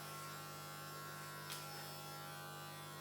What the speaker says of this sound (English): this is the basic clipper cut